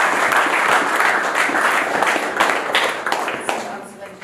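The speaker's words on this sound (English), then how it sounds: "Big round of applause, please, for his 13, Sam Collett." An audience at a pole fishing awards ceremony applauds with sustained, dense clapping, loud and close, fading slightly toward the end.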